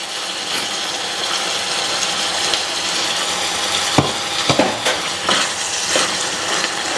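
Ground beef sizzles loudly in a pan as jollof rice sauce is added and stirred in, with steady frying hiss and several sharp scraping knocks of a utensil, no talking.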